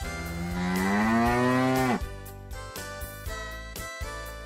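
A cow lets out one long, loud moo that rises and sustains for about two seconds before breaking off, followed by a steady musical backing with faint tinkling, and no voices.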